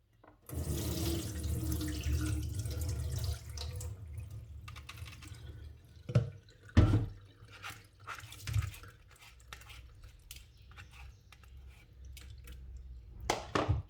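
Rice for homemade sushi is rinsed in water in a strainer, with a steady rush of running, sloshing water for the first few seconds, then quieter intermittent splashes and light clinks, close by and with no voices.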